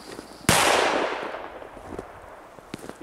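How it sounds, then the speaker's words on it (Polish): A Puma firecracker goes off with one sharp, loud outdoor bang whose long echoing decay trails away, followed by faint scattered pops. "Bo ta petarda ma zupełnie inny basowy dźwięk."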